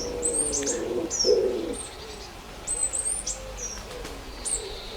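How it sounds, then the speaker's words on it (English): Several wild birds sing on a quiet morning outdoors, with high chirps and whistled phrases over soft cooing calls, moderately near and steady throughout. "other than just listen to the birds singing"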